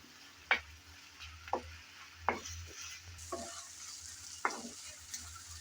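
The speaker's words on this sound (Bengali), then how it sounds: "ধনেপাতা কুচি দিয়ে নেড়েচেড়ে ভালোভাবে মিশিয়ে নিতে হবে।" A utensil scrapes through tomatoes and chopped coriander in a pan, giving a handful of distinct, close scraping strokes spaced about a second apart over a quiet, faint sizzle.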